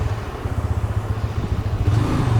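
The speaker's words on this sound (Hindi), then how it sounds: "तो मेरी बाइक चल चुकी है" A motorcycle rides along a mountain road, its engine a steady, close, low drone with a rhythmic throbbing pulse that grows slightly louder toward the end.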